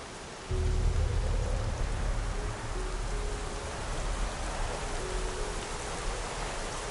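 Steady rain pours in the video game Horizon Zero Dawn, a dense, even hiss that starts abruptly and continues unbroken, loud and close, with no talking.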